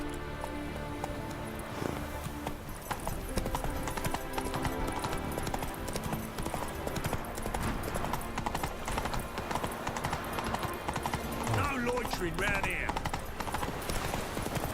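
The horse Roach gallops in The Witcher 3, with steady rhythmic hoofbeats running throughout over game music, while someone talks over the game sounds.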